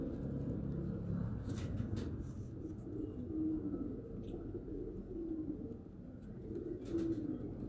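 Pigeons, including Rampuri crossbreeds kept by a fancier, coo softly in low repeated murmurs near Islamabad, a steady cooing bed with faint background noise and occasional higher rustles.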